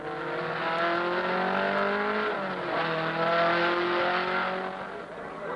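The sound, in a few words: Trans Am race cars racing at Laguna Seca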